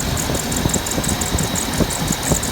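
A Dodge Ram engine idles steadily at close range with a rough, knocking rumble, while a thin high-pitched squeak from a too-tight AC compressor runs continuously above it.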